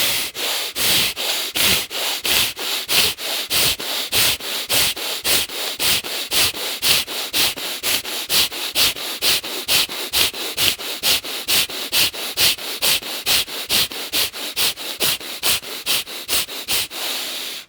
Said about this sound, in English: inhale in through the nose, exhale out the nose, and you get pumping